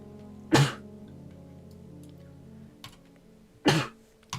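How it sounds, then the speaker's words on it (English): Two sharp sneezes burst out about three seconds apart in a quiet room, each loud and sudden, with a faint short sound between them and soft keyboard tapping and low hum in the background. "I'm just sneezing."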